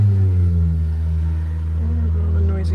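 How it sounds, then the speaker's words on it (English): Steady low rumble of road traffic passing outside, a constant engine drone with a slight rise and fall, fairly loud and continuous throughout. "All the noisy traffic's back."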